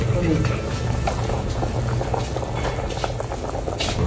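A pot of water bubbling at a steady boil on a rural stove, ready for blanching white rhododendron flowers; dense continuous rumbling bubbles, close and fairly loud, with speech over it.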